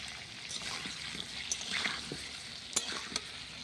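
Onion paste frying in a pan over a clay stove, a soft continuous sizzle with a few faint pops and stirring sounds, fairly quiet and without talking.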